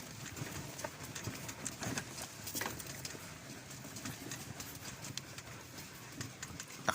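A horse pulls a cart carrying a rider along a road, its hooves clip-clopping in a steady rhythm under broad outdoor noise, with no talking.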